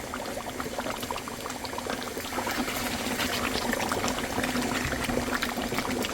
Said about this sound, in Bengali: এই মশলাটা এই যে মাংসের মধ্যে ঢেলে দিব